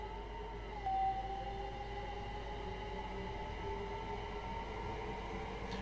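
A high-speed HST train in Train Sim 2020 rumbles past with a steady low drone and tonal whine, moderately loud and continuous, with no talk.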